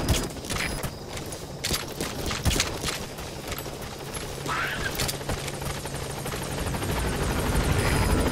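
A video game helicopter's rotor in Metal Gear Solid V: The Phantom Pain thrums steadily, growing louder toward the end as it approaches the landing zone, with scattered sharp clicks and bursts layered over the drone.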